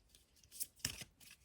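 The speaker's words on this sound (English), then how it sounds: "I'm going to give it a little shuffle" Oracle cards are shuffled by hand in a few quick, faint papery riffles and snaps, close and quiet, with no talking.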